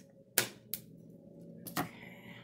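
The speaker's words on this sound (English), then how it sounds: "I'm just going to cut the little hangers off of these so that I don't rip any more bags" Scissors snip the small plastic hangers off gift bags, giving three or four sharp, close cuts at uneven intervals against a quiet room.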